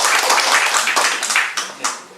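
Audience applause at a Cheondoism community dialogue gathering, a short burst of dense indoor clapping that thins out and fades within a couple of seconds.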